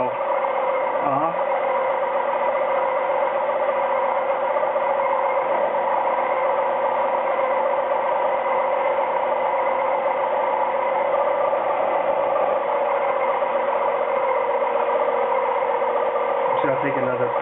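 A Micromark 7x14 mini lathe bores aluminum with a steady, whining mechanical hum and a constant drone of motor and cutting, and a person speaks now and then over it.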